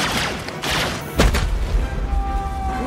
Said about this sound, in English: We registered an explosion on the thermal grid.